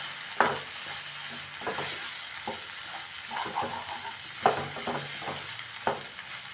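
Okra and egg stir-fry sizzles in a pan with a steady crackle, broken by scraping stirs of a spatula, and a voice speaks briefly.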